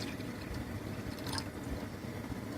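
Liquid being poured into a tall glass, a quiet continuous trickle and splash heard close up with no talking.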